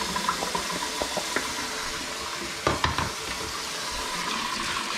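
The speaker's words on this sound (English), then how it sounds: "I'm gonna start doing my dishes from yesterday." Washing the previous day's dirty dishes at a kitchen sink, with a steady wash of running water and a few light clinks and knocks of crockery close by.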